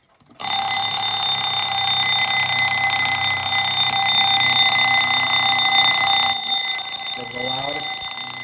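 Canadian wind-up alarm clock ringing loudly in a continuous metallic bell ring that starts abruptly and runs steadily for several seconds before cutting off, with a brief faint voice near the end.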